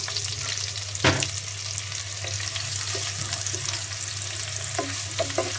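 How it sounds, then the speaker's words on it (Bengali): Onions dropped into hot oil with cinnamon, cloves and black pepper fry with a steady, dense sizzle, broken by a few clattering stirs of the spoon against the pan, for a duck curry with coconut milk. "আমি এখন পেঁয়াজ দিয়ে দিচ্ছি।"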